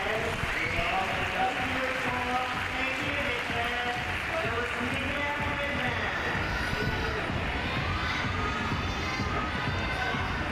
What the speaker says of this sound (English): So now the partisan crowd gets behind one of their own, the 17-year-old.